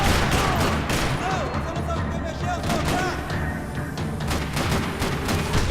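Gunfire in the shooter game Max Payne 3, a dense continuous barrage of shots and impacts under game effects and a talking voice, loud and sustained.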